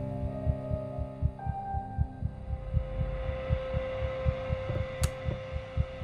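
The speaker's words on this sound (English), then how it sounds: "also there's the heartbeat bug" A looping heartbeat glitch in the game When the Light Dies thumps in a steady, regular double-beat rhythm under a low hum, fairly quiet and continuous, with no one talking.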